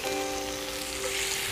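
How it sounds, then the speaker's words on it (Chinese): Tofu frying in oil in a pan for a Cantonese clay-pot dish, giving a brief, dense, even sizzle like light rain. It holds steady with a faint tonal hum beneath. "煎豆腐"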